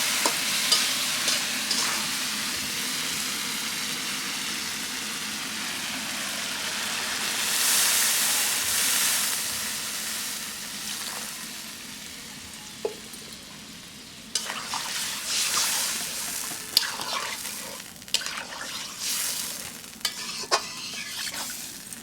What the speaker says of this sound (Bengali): এখন আমি ঝোল দিয়ে দিলাম